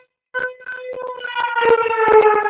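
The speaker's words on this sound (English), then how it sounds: "He couldn't handle the sirens." Sirens begin after a brief silence, their wavering tones climbing and swelling as more join in, growing louder and fuller toward the end with no voices.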